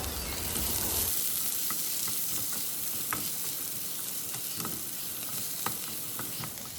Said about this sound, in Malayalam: ഇത്രയും കൂടെ ചേർത്തിട്ട് ഒന്ന് ആദ്യം വഴറ്റി കൊടുക്കുക